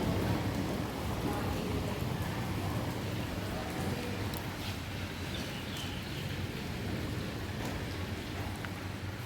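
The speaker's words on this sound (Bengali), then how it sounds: "কেমন বৃষ্টি পড়তে শুরু হয়েছে, হাওয়াও দিচ্ছে আকাশে" Steady rain falls outside a house during a storm with wind, a dense, even hiss of drops that stays constant and fairly faint throughout, with no clear thunderclap standing out.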